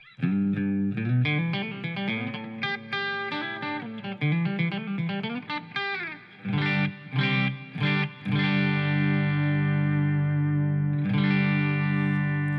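Distorted electric guitar played through a Headrush amp and cabinet simulation, with fast melodic runs, choppy chords and long ringing notes, loud and upfront.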